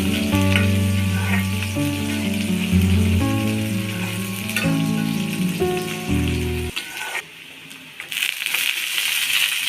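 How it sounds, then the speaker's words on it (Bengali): Chopped green chillies fry for banana blossom fritters, sizzling and crackling loudly under a droning tonal hum that stops abruptly. Quieter sizzling and stirring carry on afterward, with no speech. "কাঁচামরিচ কুচি দিয়ে দিলাম, একটু ভেজে নিতে হবে"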